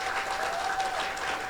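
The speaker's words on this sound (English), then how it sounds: "every one of these ladies deserve a huge round of applause from everybody" Applause fills a room at an annual dinner, a dense, steady wash of clapping from a crowd that holds at an even level for the whole stretch.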